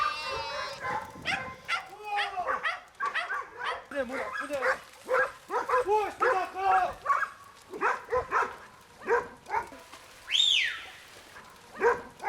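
Sheepdogs bark and yip in quick bursts, mixed with whimpers, while a narrator talks over them almost without pause.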